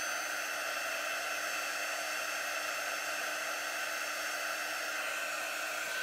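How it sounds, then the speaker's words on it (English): A hair dryer blows steadily over chalk paste on a stenciled design, a constant loud whooshing hiss with a faint motor whine and no talking throughout. "if your dryer has heat to it, you don't want your surface to be hot when you put your transfer down on it either"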